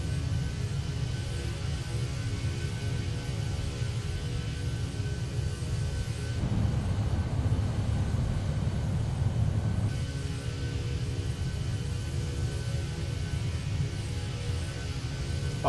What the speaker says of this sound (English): those sounds from the engines are amazing